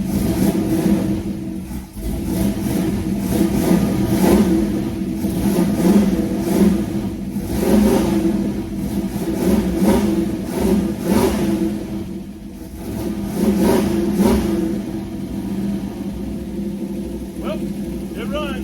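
A '32 Ford Roadster hot rod engine on four IDF carburetors, freshly converted from fuel injection, runs and revs steadily throughout, a loud close rumble that rises and falls with throttle blips.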